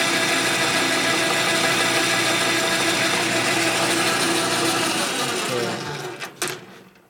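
A metal lathe takes a light four-thou finishing pass along a workpiece, a steady loud mechanical whir and hiss running continuously before trailing off with a couple of brief knocks near the end.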